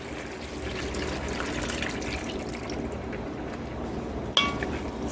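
Water poured from a cup into a pan of kimchi with lemongrass while making kimchi taco filling, a steady close liquid rush running for several seconds before a brief clatter near the end.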